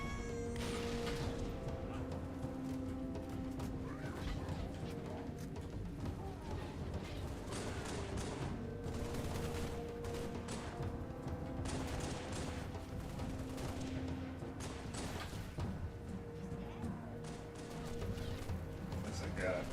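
Auto turret in Halo 3 rattling off rapid automatic fire in repeated bursts amid other combat noise, with people talking throughout.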